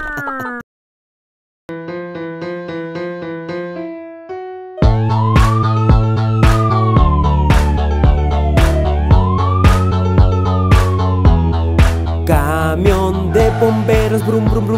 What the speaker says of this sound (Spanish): camión de bomberos, brum brum brum